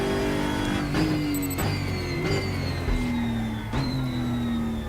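Race car engine in the RaceRoom racing simulator game, repeatedly revving up and dropping through gear changes, a loud buzzing engine note rising in pitch with sharp shifts, close and alone.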